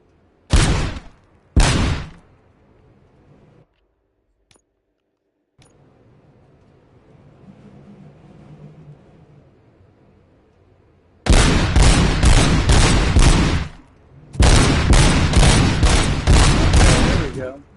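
Gunfire in RoboCop: Rogue City, with two sharp, loud single shots early, then a lull of quieter game ambience before two long, dense bursts of rapid fire close and loud. A faint voice may be under the quieter stretch.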